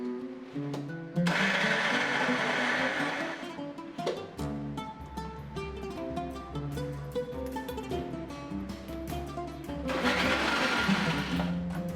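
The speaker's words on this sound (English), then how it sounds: "Now blend till it becomes creamy." A blender whirs through cashew paste mixed with sunflower oil in loud bursts, with high whining runs at the start and end and a lower churning motor hum in between, close up and without speech.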